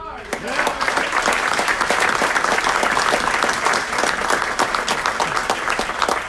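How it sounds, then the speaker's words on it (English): A city council meeting audience applauds steadily with dense, sustained clapping that fills the whole stretch. "Applause for Ward 9."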